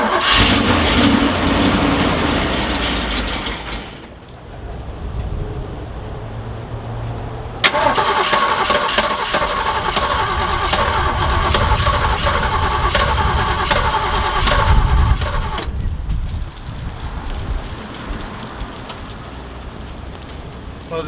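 A Jeep J10 that has sat unused for years, freshly fuelled with a couple of gallons, cranks in long bursts with a pause between, the starter churning loudly and close without catching into a steady idle.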